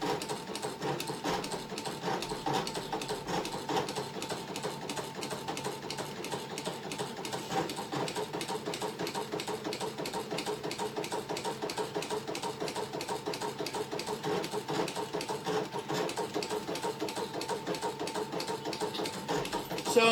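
A Brother ScanNCut cutting machine scoring material, a steady close mechanical buzz with a fast regular rhythm that runs unbroken and evenly loud throughout.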